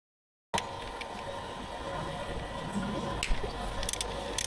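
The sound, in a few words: undoing ignition coil bolts on a Toyota Yaris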